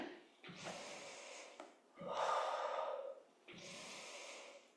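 Heavy breathing during a cardio flow workout: three long, close exhales and inhales in a slow rhythm, each a breathy rush of air, with no speech.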